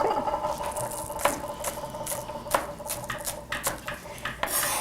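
Knife chopping fresh scallions on a cutting board in a home kitchen, producing a series of sharp, irregular taps close by with faint kitchen clatter in between.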